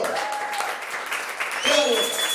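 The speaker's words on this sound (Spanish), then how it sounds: "Vamos, dale un aplauso al Señor." A church congregation claps loudly and continuously during a Sunday service, a dense wash of hand claps that swells toward the end.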